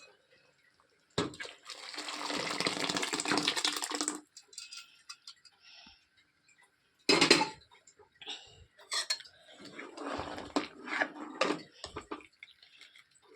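Cooked lentils mashed with a ladle in a pot for drumstick sambar: scraping, sloshing strokes of metal against the pot in irregular bursts with pauses between, close and fairly loud, with no voices.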